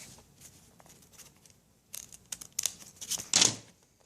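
Scissors cut through a paper piece with a few quick, close snips and rustles that grow louder toward the end, in a quiet room with no talk.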